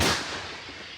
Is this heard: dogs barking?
no